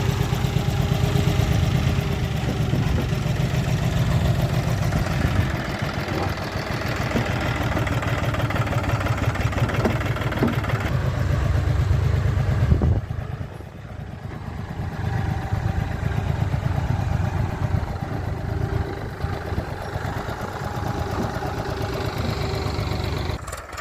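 A tractor's steady, rumbling engine runs throughout at a constant idle, close by, with a brief dip partway through before the chugging resumes.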